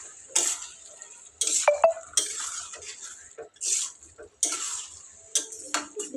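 Aloo methi, a potato and fenugreek curry, being stirred in a pan. A spoon scrapes and clatters against the metal in several short, close bursts separated by brief pauses.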